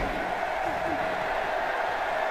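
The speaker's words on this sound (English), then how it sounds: "This crowd is buzzy." A steady, dense roar from an arena crowd in the WWE 2K18 wrestling video game fills the whole stretch at an even level, with a voice talking over it.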